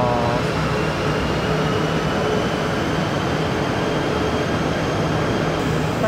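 A commuter train pulls into an old station in Kuala Lumpur, a steady loud rumble and hum of rolling wagons and machinery filling the whole stretch without a break.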